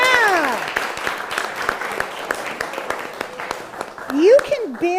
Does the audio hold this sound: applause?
yes